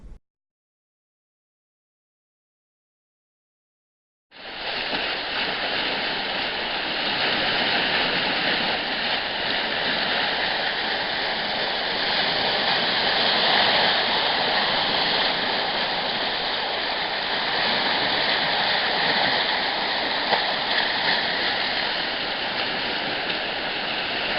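Floodwater rushes at the Green Bridge in Stonehaven, a loud, steady roar of churning water that begins abruptly after a few seconds of silence and continues unbroken.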